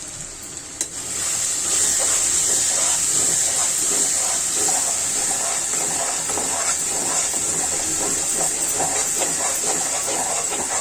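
Spice paste fries in hot oil while it is stirred. After a brief quiet start, a loud, continuous hiss and sizzle runs steadily to the end.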